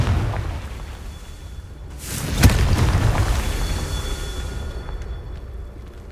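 A Confringo blasting spell in Hogwarts Legacy detonates with a deep, rumbling boom that swells sharply and then decays slowly into a lingering low roar.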